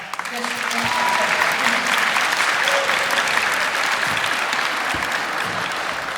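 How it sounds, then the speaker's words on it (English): Loud, sustained applause fills a school music performance evening, the whole crowd clapping steadily while a few voices carry faintly beneath the clapping. "let's give her a round of applause."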